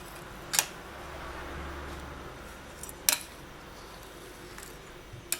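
Blade snips trim polymer clay pieces, a few isolated sharp cutting clicks spaced several seconds apart, close and quiet over a faint steady room hum.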